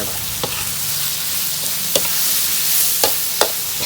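Eggplant stir-frying with squirrel meat in a hot pan for a spicy Thai wild-game dish, a steady loud sizzle broken by several sharp scraping stirs of the spatula.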